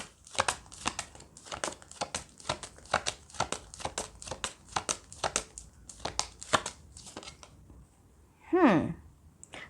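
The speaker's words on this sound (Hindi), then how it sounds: "चलो एक बार हम सारे कार्ड्स निकालें" Tarot cards being drawn and shuffled in a rapid, close run of crisp papery flicks and snaps, then a brief pause and one final swishing sweep.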